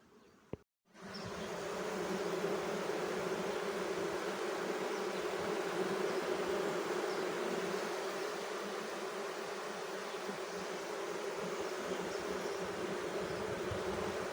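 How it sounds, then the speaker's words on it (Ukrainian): A loud, steady drone of a honeybee colony buzzing close by inside an open hive, continuous and dense, after a brief quiet knock at the start. "Думаю, добре чуєте, який характерний гул стоїть у вулику."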